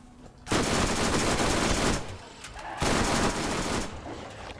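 Two long bursts of rapid gunfire in the video game Borderlands, loud and close, with a shotgun blasting in fast succession, each burst lasting over a second with a short gap between.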